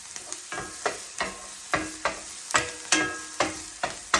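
Onions and beans fry in a pan, with a steady sizzle broken by a series of sharp, rhythmic scraping stirs from close by, with no talking.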